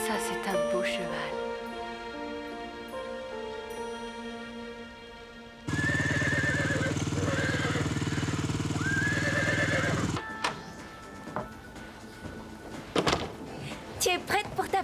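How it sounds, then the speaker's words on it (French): A horse gives a few whinnying neighs near the start, followed by a loud, dense stretch of other noise and then scattered softer sounds. "Ça, c'est un beau cheval."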